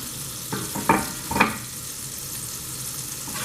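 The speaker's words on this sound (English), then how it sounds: "So we're just going to saute this for a few minutes. And let that garlic get a little toasty." Garlic sautéing in a hot pan, a soft steady sizzle broken by two or three quick scrapes of stirring, heard close with nobody talking.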